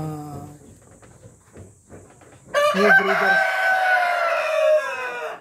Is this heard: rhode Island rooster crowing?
yes